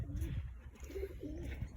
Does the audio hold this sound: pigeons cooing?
yes